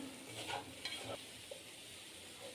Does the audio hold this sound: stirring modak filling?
yes